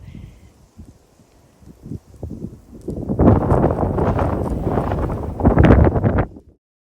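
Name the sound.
wind picking up in a winter garden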